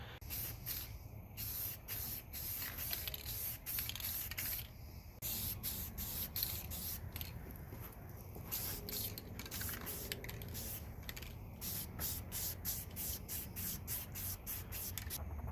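Spray primer going onto a scuffed plastic body for a 1/10 Jeep Wrangler RC crawler, heard as a close, steady aerosol hiss in repeated bursts with brief pauses between passes.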